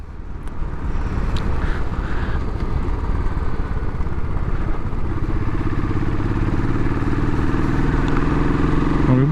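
A 2018 Royal Enfield Classic 500 motorcycle rides steadily on open roads, its engine a loud, constant thump with wind rush throughout and a rising rev near the end.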